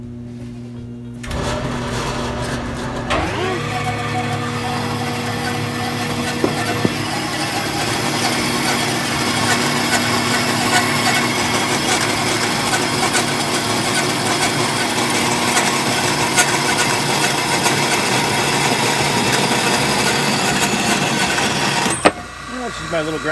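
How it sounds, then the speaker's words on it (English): A small angle grinder spins up and whines steadily for about twenty seconds, loud and close, as it takes burrs off the cut edge of a piece of metal in a blacksmithing workshop, then winds down. "This is my little grinder. Just to take the burrs off the edge there."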